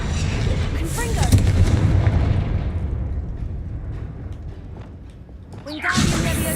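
The Confringo fire spell explodes in the video game Hogwarts Legacy with a heavy booming blast, a rolling rumble and crackle that slowly fades, then a second burst flaring up near the end.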